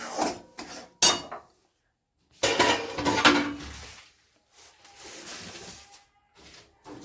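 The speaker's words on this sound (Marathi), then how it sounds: "तीळ त्याच्यामध्ये छान पटकन गरम असतानाच मिक्स करून घ्यायची" Spoon scraping and clanking against a pan while sesame seeds are stirred into hot jaggery for til gul papdi, with irregular bursts of metallic scraping separated by short pauses.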